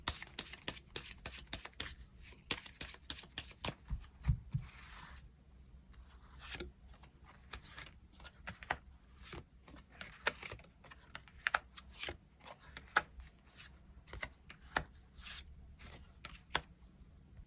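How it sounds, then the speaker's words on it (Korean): Tarot cards are shuffled in rapid flurries of crisp riffling and snapping, close and fairly soft, with short pauses between bursts. No one speaks. "카드 뽑아보도록 하겠습니다."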